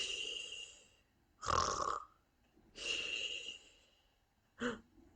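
People imitate snoring with three separate breathy, rasping snore sounds, each lasting about a second and spaced by quiet pauses.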